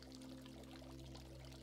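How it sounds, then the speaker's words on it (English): Water from a fountain flows in a soft, continuous stream, faint and steady under a low background hum. "You close your eyes and focus on the sound of the flowing water"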